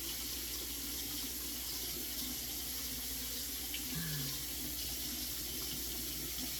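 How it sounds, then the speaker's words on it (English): Tap water runs steadily as hands splash it onto a face at a bathroom sink, a continuous close hiss and trickle with a brief gurgle partway through. "I'm just using water on my face like that with my hands that are clean"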